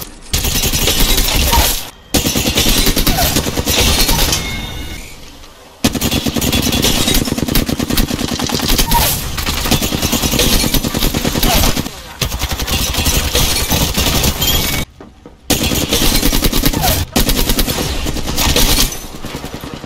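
Dense automatic gunfire in the Apex Legends video game rattles in long, loud bursts, broken by a few sudden brief silences.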